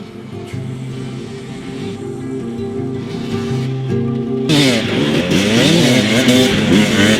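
A KTM 300 two-stroke dirt bike engine idles with a steady drone, then revs up sharply and stays loud and rising, close by with no talking.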